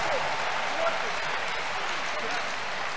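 A church crusade crowd claps together for Jesus, a dense, even wash of applause held steady throughout.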